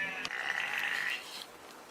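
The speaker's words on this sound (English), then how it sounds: "Gotta feed the sheep and the cows." Sheep at feeding time on a farm facility, a single bleat heard close and fairly clear for about a second, then quieter background.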